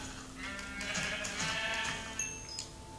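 Sheep in Minecraft give a few wavering bleats over a low game background, close and moderately loud across three seconds with no talking.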